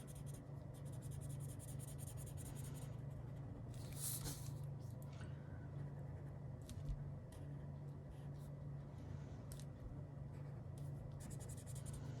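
A pen scratches along a ruler while outlining a mandala drawing, with faint steady scraping strokes over a constant low hum, close and quiet.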